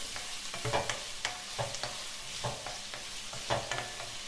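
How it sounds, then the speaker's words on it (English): Herbs sautéing in a pan for a saltfish dish with ground provisions and plantains, with a steady sizzle and repeated scraping stirs of a utensil against the pan, near and fairly quiet, no voices. "And just saute this a bit"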